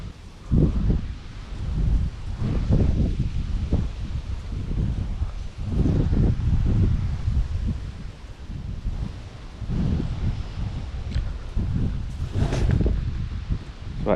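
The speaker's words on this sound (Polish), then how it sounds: "Wiatr niestety jest dość porywisty" Gusty wind blows outdoors on a fishing outing, buffeting the microphone in strong, uneven surges that rise and fade over the whole stretch, with a faint rustling beneath.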